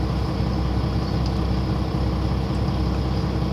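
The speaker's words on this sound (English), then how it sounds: "Just watching the traffic." Steady low rumble of road traffic with idling cars and trucks, a constant engine drone and hum holding evenly throughout with no voices.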